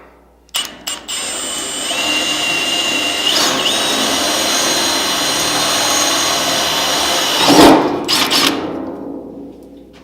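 A power drill fitted with an 11/32 bit enlarges a hole in a fender, whining steadily at high speed for several seconds, with a louder bite near the end before spinning down.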